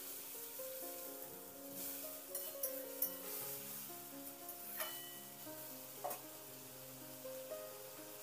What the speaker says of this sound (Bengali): এবার এই মশলাটাকে নাড়াচাড়া করে নেব মিনিট 2-3 জন্য